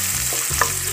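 Chopped onions softening in oil in a pan, a brief steady sizzle with a light stir or clink partway through.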